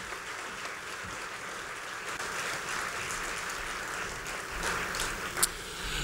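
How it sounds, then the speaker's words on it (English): An audience at a community volunteer awards ceremony in Port Coquitlam applauds, a steady wash of clapping that holds evenly and swells slightly near the end. "So if we could give them a huge round of applause as a great family from Port Coquitlam"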